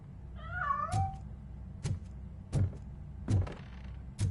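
A cat in the Robocop: Rogue City video game lets out one clear rising-and-falling meow near the start, followed by several sharp knocking clicks and thuds at uneven intervals.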